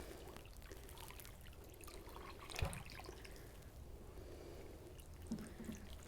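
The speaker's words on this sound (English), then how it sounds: "And then we'll just water these in." Water trickles gently from a can onto newly planted herbs in a container, a faint, steady soft patter with one brief louder splash midway, no talking.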